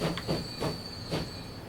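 A Transport Fever 2 train pulls out in a short stretch of rail noise, rhythmic clacks of wheels over track joints under a steady high whine, moderately loud, with no talk.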